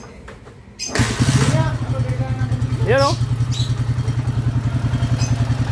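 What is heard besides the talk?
motorcycle engine starting, rattling exhaust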